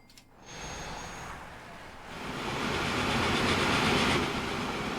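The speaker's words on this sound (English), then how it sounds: "we got a train headed to LA" Train running in the video game Transport Fever, a steady rolling rumble with faint clickety-clack that grows slightly louder and fuller partway through, no talking.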